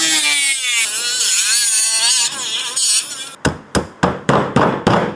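A steel layer being removed and cut from a Max Racing full exhaust system on a GR Yaris, a sustained metallic whine followed by a run of sharp, loud, evenly spaced cutting strokes or hammering blows.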